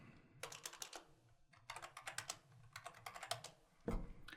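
Rapid bursts of keystrokes on a computer keyboard as a password is entered while protecting a spreadsheet, clicking in quick irregular runs with short pauses, close and moderately loud with no talking.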